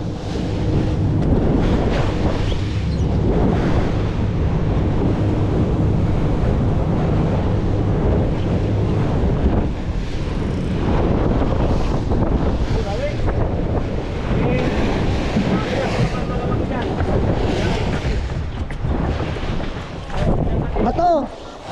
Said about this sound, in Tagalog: Grabe ang alon.